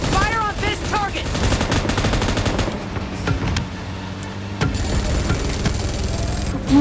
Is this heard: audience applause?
no